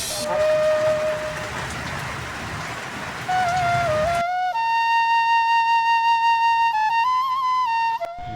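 Steady rain hisses for about four seconds, then gives way to a sustained, wavering high tone that carries on to the end.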